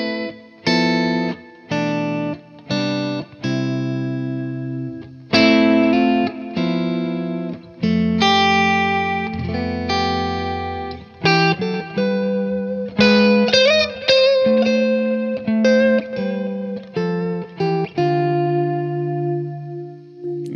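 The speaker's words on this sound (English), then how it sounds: "adding a little extra echo there." An electric guitar plays a run of picked notes and chords, each ringing out with repeating echoes and a slightly distorted, spacious tone.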